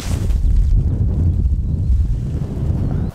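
Steady wind buffets an outdoor golf course during a par-five approach with an 8-iron, a continuous low rumble of gusts across the microphone, loud and unbroken, with no voices.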